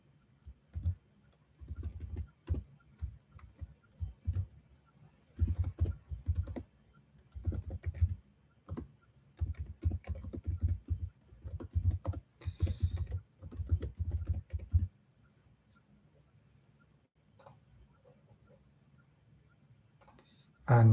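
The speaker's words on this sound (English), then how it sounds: "let me type today's live title" Typing on a computer keyboard, with bursts of quick close key clicks separated by short pauses, going quiet near the end before a brief bump.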